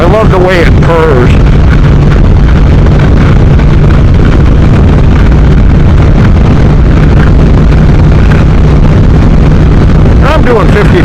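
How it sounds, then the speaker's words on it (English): Triumph Thruxton R British twin-cylinder motorcycle engine running at speed, a loud continuous drone smothered by heavy wind rush, with a low steady hum underneath throughout. "It's your typical British twin-cylinder engine."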